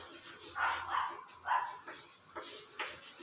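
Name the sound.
dog barking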